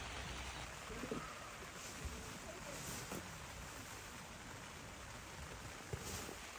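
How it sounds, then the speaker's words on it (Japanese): Heavy rain pours down on a campsite at Campagna Tsumagoi, a dense, steady hiss with scattered sharper drips and taps, close and continuous throughout. "こい雨。"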